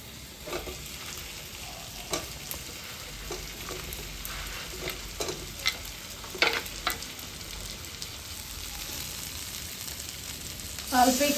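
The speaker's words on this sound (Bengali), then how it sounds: "এবার ভেজে রাখা সয়াবিনগুলো দিয়ে দিব।" Fried soybean chunks stir-fried in oil in a pan for a veg chili chicken dish, a quiet continuous sizzle broken by irregular spatula taps and scrapes, louder clatter at the end, with no voices.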